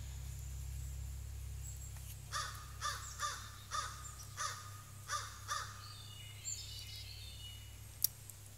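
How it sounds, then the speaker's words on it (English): A crow caws repeatedly outdoors, about eight harsh calls in an irregular series, moderately distant over a steady low hum, with a sharp click near the end. "you can listen to the crow while we do this."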